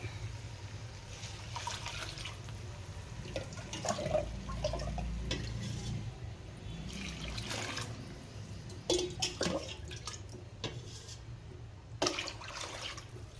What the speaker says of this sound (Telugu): రెండు చెంబుల బియ్యం పోసుకున్నాం కదా, అయితే మనం 3 చెంబుల వాటర్ వేయాలి.